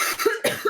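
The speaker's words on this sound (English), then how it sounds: "I have pneumonia. Don't worry about my cough." A person with pneumonia gives two quick, harsh coughs in close succession, near and distinct.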